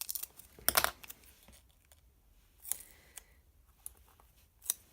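Scissors cutting paper for a planner layout, a dense burst of snipping and rustle near the start followed by a few sparse, quieter snips and paper sounds against a quiet background.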